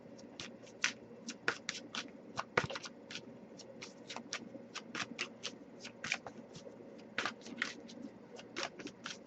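A tarot deck is shuffled by hand in quiet, repeated riffles and taps, a soft, irregular patter of card snaps close by with no talking.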